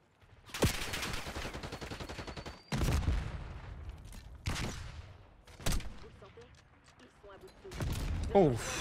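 Bursts of suppressed AK47 fire in Black Ops 6, several rapid volleys with short gaps between, loud and close, mixed with game effects and someone talking.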